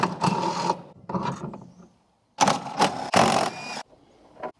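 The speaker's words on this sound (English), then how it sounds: "So now I'm going to undo this nut and obviously hold the strut from underneath" Bursts of ratcheting and clicking mechanical noise from undoing a strut nut on a Mk2 Escort, several short loud spells separated by silent pauses, close by.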